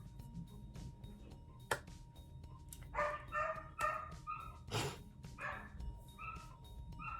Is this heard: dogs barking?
yes